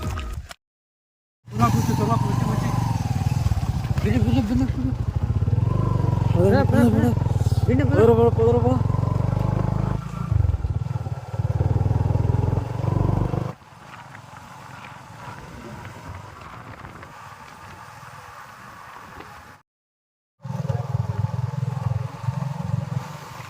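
A motorcycle engine revs and runs loudly for several seconds, then cuts out and later starts again, with voices talking over it.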